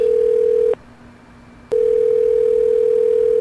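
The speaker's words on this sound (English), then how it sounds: "You'll hear that phone ring, and that's just me joining the conference." A steady electronic telephone line tone plays while joining a conference call over a phone line, cut by one short silent gap near the start before resuming and holding to the end.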